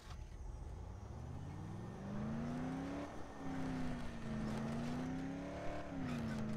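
A car driving in the video game Dead Island gives a steady engine drone that rises and falls in pitch as the vehicle speeds up and shifts, quiet and unbroken throughout.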